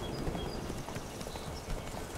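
Horse hooves clop along in the video game Witcher 3, an irregular walking clatter of hoofbeats, steady and close, with no one talking.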